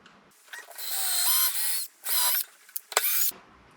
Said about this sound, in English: Now I'm going to drill pilot holes into the wood for these giant screws that came with the set.